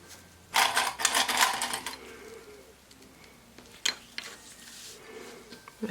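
A sewing machine runs in a short burst as it stitches a bound pocket on a raincoat, followed by quieter clicks and handling noises.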